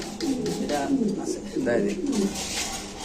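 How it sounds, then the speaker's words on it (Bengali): Low, throaty pigeon coos repeat in soft bursts close by, with a faint voice murmuring beneath them. "এই দেখেন কবুতরগুলো ডাকতেছে"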